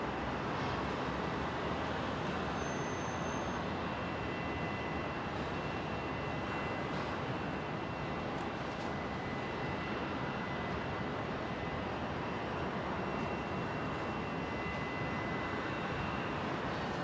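A Qantas Airbus A220 in traditional red livery lands on runway 19 left, arriving from Melbourne, its steady broadband engine roar filling the scene loud and continuous throughout.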